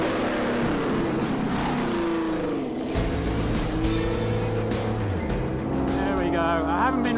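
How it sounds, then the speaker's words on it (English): A 1961 Ferrari racing car engine running on a track, a near, loud revving drone with pitch rising and falling through gear changes, alongside wind noise. "I want to hear these cars running, give them a little bit of a thrash on the track."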